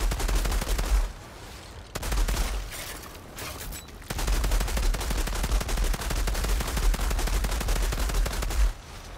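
Rapid sidearm gunfire in the video game Outriders, a loud close burst of quick repeated shots in dense volleys with brief pauses between them.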